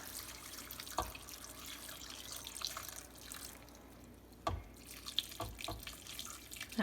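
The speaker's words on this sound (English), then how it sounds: "Then we're going to cover it with some water." Tap water runs into a pot over frozen broccoli, a soft steady pour with splashes and a few louder drops and knocks, close but fairly quiet, no speech.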